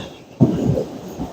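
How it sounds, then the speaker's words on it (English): Low rumbling boom of storm thunder rolls in abruptly after a quiet moment and lingers as a sustained, moderately loud rumble that slowly fades. "It's a storm here, y'all."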